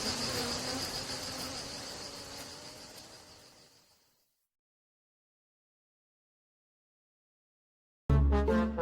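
Buzzing of bees leaving their hive, a dense continuous insect drone that slowly fades out over several seconds, followed by silence and then a sudden burst of different louder sound at the end.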